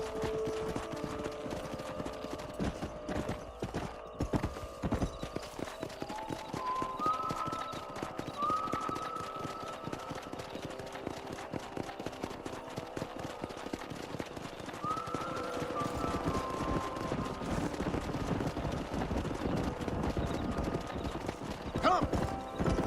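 Horses gallop with steady, quick hoofbeats across open country in Red Dead Redemption on Xbox 360, with occasional neighs and distant gunfire over a continuous outdoor background, while brief speech sounds faintly.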